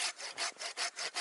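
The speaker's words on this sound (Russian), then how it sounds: "Одной рукой держу, другой пилю. Так вот работает пила." A Japanese Silky hand saw cuts through wood by a campfire. Quick, rasping push-pull strokes repeat rapidly and evenly, close and clear, with no talking.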